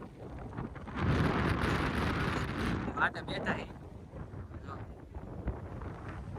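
Strong wind buffets the microphone outdoors at Koliyak, a heavy roaring rumble that is loudest early on and then eases, with someone speaking under it throughout.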